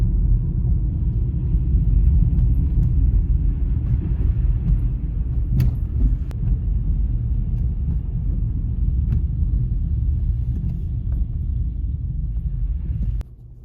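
A car drives along a badly storm-damaged road, giving a steady low rumble of engine and tyres with occasional sharp knocks and bumps, continuous throughout before ending abruptly.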